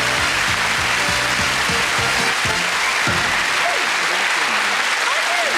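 Loud, sustained applause from a television game-show studio audience fills the whole stretch, with a male host's voice speaking over the clapping throughout.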